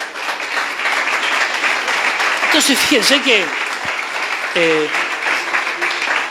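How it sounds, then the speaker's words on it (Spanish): A church congregation applauds during a sermon, dense steady clapping filling the room while a voice speaks over it. "Dale un aplauso al Señor."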